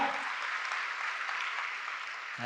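An audience bursts into loud, sustained applause, a dense even wash of clapping from many hands, heard alone without voices.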